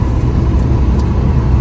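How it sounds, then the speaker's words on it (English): Dense city traffic in Istanbul, heard from inside a moving car: a constant low engine and road rumble with faint passing vehicles, loud and steady with no talk. "it's only city like full on traffic"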